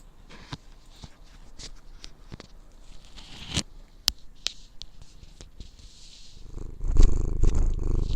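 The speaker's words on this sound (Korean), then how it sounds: "골골골 소리를 들려드리려고" A cat purrs softly up close, a low rumbling vibration with scattered light scratching and ticking sounds, growing louder and fuller near the end.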